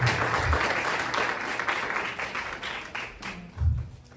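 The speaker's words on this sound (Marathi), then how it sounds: "त्याच्यासाठी अजून एकदा टाळ्या वाजल्या पाहिजे" An audience at a Marathi poetry competition claps for a young poet, sustained applause at moderate distance that thins slightly toward the end.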